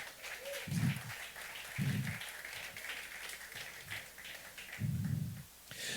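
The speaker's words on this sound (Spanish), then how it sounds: "Dale un aplauso fuerte al Rey." A church congregation applauds for the King during a Christian sermon, a moderate steady patter of clapping with a few low thumping bursts mixed in, fairly distant in a reverberant room.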